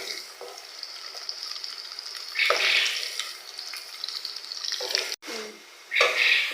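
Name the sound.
onion and garlic frying in oil with cumin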